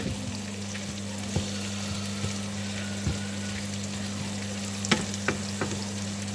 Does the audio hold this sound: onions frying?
yes